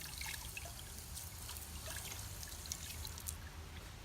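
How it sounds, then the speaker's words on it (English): Water runs steadily over a catalytic conditioner and riser from a tri chamber apparatus as they are rinsed, a soft continuous trickle with small splashes, heard close and quiet with no talking. "run water down the center tube for a final rinse."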